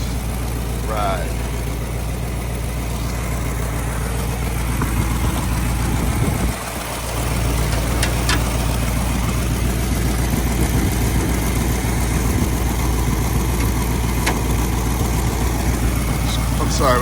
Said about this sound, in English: Notice there is a little exhaust leak at the header gasket.